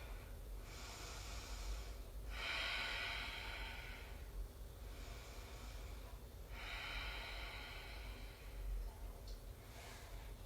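Slow, deep breathing during a reclined cobbler yoga pose, several soft breaths in long, even cycles of inhale and exhale, close and quiet over a faint background hum.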